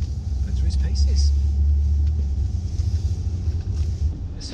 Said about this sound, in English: So we're going to take it on this loop,